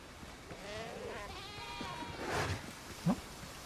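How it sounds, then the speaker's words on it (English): Goats in the video game Windrose bleat in wavering calls at a moderate distance across a few seconds, over a low ambient bed, with a short thump near the end and no talking. "Terrified the goats."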